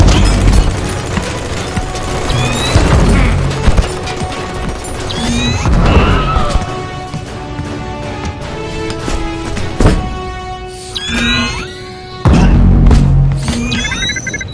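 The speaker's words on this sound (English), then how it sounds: "Assailants are using armor-piercing rounds." Heavy armor-piercing rounds slam and crash around the player in an Iron Man VR battle, mixed with booming impacts, mechanical whines and swooping effects, loud and chaotic with a few short lulls.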